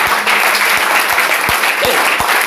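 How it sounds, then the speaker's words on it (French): A church congregation at a prophetic worship service claps loudly and continuously in praise, the dense applause backed by regular deep thumps at a steady beat. "Applaudissons pour le Seigneur Jésus."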